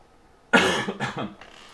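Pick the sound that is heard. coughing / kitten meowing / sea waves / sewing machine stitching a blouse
coughing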